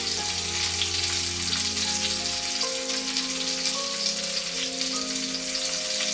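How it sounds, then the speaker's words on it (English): Breaded chicken cordon bleu fries skin side down in a pan with a steady, close sizzle and crackle throughout, a low hum running beneath the frying. "Now I'm going to put them in the pan with the skin side down"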